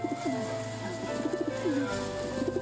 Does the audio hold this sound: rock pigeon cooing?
yes